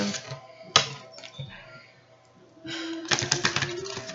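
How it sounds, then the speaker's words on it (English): Tarot cards being shuffled close up, a papery riffle and scattered flicks that build into a dense burst of rapid flutters at the end. "let me shuffle these"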